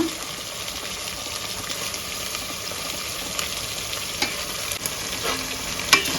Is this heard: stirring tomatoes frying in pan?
yes